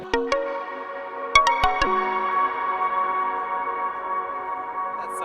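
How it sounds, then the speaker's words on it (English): Plucked guitar notes feed a Poly Effects Verbs convolution reverb pedal, and a long lush reverb tail keeps ringing and swelling after the last notes, steady and alone. "that's some of that reverb."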